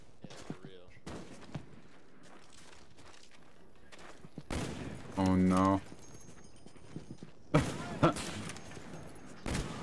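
Sharp gunshots in Call of Duty: Black Ops 1 during a quickscopes-only one-on-one match ring out as a few separate loud bursts with gaps between them, while players talk and laugh.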